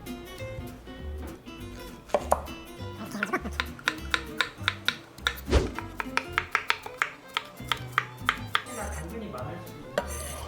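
Zucchini being cut on a cutting board gives a run of sharp knife taps, irregular at first then quicker and evenly paced, with light clinks of kitchen utensils and a faint voice in the background.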